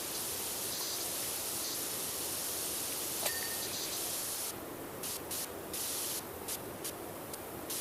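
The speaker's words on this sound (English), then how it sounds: "we didn't do a good job of spraying it down" A pressure washer sprays steadily in PowerWash Simulator 2 at a motel, giving a continuous loud hiss that briefly cuts out and restarts in short gaps near the end.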